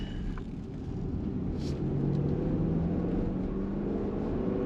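A 2020 Jeep Grand Cherokee Overland with a Hemi, heard from inside while driving on a road through a sharp bend: a steady, low engine and road rumble with a continuous tire hiss and no talking.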